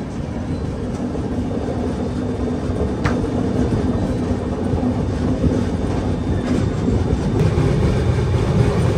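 A passenger train on the Visakhapatnam to Varanasi run rolls along with a steady, loud, close rumble and wheel noise that carries unbroken throughout, with no voices.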